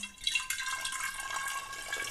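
Sterilising solution poured into a glass wine bottle while making rhubarb wine, a steady bright liquid trickle and splash running continuously at close range, with no talking over it.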